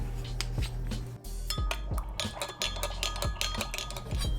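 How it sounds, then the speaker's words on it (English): Utensils clinking and scraping steadily against a bowl while soy sauce and other ingredients are mixed together for braised noodles with chicken and shiitake mushrooms, busy and close throughout. "So mix all these ingredients together and then add a dash of pepper and set it aside."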